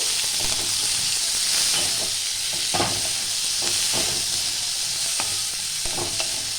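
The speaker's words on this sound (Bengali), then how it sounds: "এবার হালকা আছে আমি কমিয়ে কমিয়ে এটা ভালো করে একটু ভেজে নেব" Mixed yellow and red capsicum fries in butter in a pan, giving a continuous bright hiss and sizzle close up, with scattered scraping taps from stirring and no voices.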